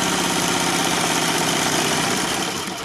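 A sewing machine stitches cushion fabric with a fast, steady, close mechanical whirr and needle chatter that runs without pause and slows slightly at the end.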